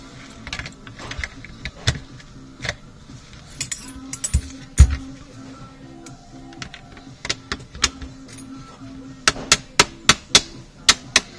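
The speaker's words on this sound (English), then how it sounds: "Just tapping these screws in just because they go clean through and they're only held in with the nuts." Screws being tapped in on an Echo1 MTC airsoft rifle: sharp metallic taps, scattered at first, then a rapid run of evenly spaced, loud close knocks near the end.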